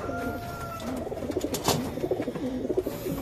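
Pigeons coo in low, throaty bursts as they are let out of a box, with a few wingbeats or shuffles and a faint voice in the background.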